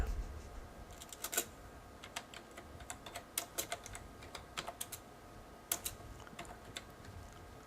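Keys clatter on a computer keyboard in quick irregular bursts, close and fairly quiet, with no one talking.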